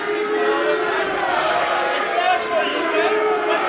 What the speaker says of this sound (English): Hear the chant of Eubank, Eubank from the crowd